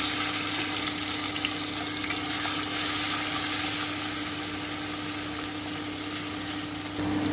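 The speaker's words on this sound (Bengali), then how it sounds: "এবারে আমি চিংড়ি মাছটা হালকা করে ভেজে নিচ্ছি" Shrimp fry lightly in hot oil in a home kitchen pan, giving a steady, close sizzle and crackle that holds at an even level, with no talk, until a slight drop near the end.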